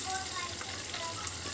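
Bell pepper (capsicum) softening in a pan over low heat gives a steady, soft sizzle with faint crackles. It runs evenly throughout, fairly quiet and close by, and no one speaks over it.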